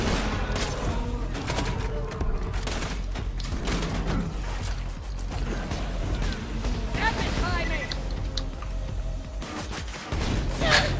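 Grenade blasts and bursts of gunfire in the Borderlands 2 shooter game, with repeated sharp booms and rattling shots scattered across a chaotic firefight while people talk over the action.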